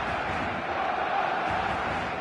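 A stadium crowd in the eFootball video game roars and cheers steadily before kick-off, a dense, continuous wall of massed voices with no break.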